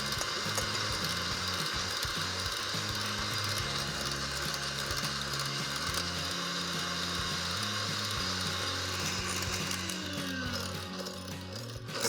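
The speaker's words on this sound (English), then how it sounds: "I'm basically whipping air into this" Egg yolk and lemon juice for Greek avgolemono soup are whisked until foamy, giving a continuous, loud, close rattling whir with a steady mechanical churn and no talking.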